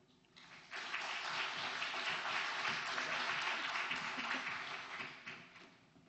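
An audience at an energy seminar in Brisbane welcomes the speaker with steady, moderately loud applause that swells quickly, holds for several seconds, then fades out.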